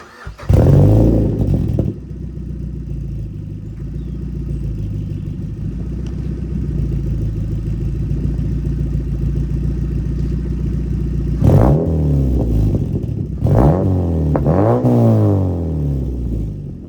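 A Mazda MX-5 with a single-exit muffler delete pipe exhaust cranks and fires, then idles with a steady loud drone before several sharp revs near the end, close and alone.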